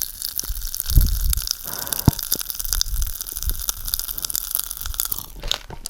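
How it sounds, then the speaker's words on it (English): Close-up crackling and fizzing with small irregular pops and crunchy bursts, steady throughout with no talking. "I hope you can hear that bubbling."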